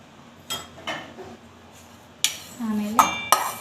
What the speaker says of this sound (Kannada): ಧನಿಯಾ ಜೀರಿಗೆ ಹಾಕ್ಕೊತೀನಿ ನೋಡ್ರಿ